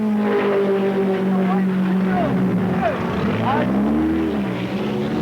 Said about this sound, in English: Nick Craw takes the wheel of Russ Norburn's BMW, which is running in 5th.